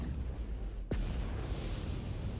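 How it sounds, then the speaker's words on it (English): Orbital strike explosion in the video game Planetside 2: a single sharp descending whoosh and heavy boom near the middle, over steady loud game rumble and ambient battle noise, with no talk. "Oh, that's an orbital strike."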